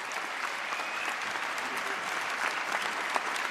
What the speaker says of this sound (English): Give Darrell Clark a huge round of applause.